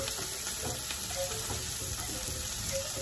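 Onions frying in a pan for a pumpkin and shrimp dish give a steady, close sizzle that runs unbroken throughout, with faint stirring noises on top.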